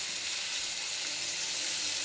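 Steady bright sizzle of items frying in oil on a stove while tempering for a potato and spinach fry, continuous and close with no talking.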